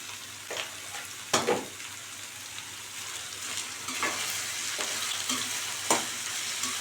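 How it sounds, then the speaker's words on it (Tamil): Bitter gourd pieces fry in a pan with salt while a spoon stirs them, giving soft sizzling and several distinct scraping clinks spaced a second or so apart, close by with no talk. "உப்பு சேர்த்து நல்லா கிளறி விட்டுக்கலாம்"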